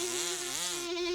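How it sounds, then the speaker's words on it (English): Cartoon bees drone in a tight, continuous high-pitched buzz as a flying carpet takes off, the tone wavering up and down in pitch with no voices over it. "When the bees flew, so did the carpet."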